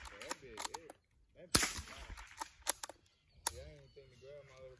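A .22 rifle fired outdoors in the country, one sharp loud crack standing out among a few smaller pops, with voices talking around it.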